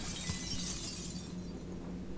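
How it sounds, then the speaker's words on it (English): Glass shattering in the stealth game Dishonored 2, a sustained bright crash and tinkle of breaking panes over a low game hum, steady and fairly loud throughout with no talking. "I broke the glass with guy's head"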